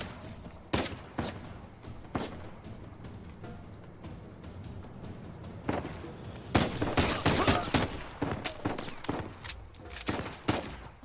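Gunfire in the video game Uncharted 4: sharp, loud shots crack out singly at first, then build into dense rapid bursts and volleys over a constant background rumble.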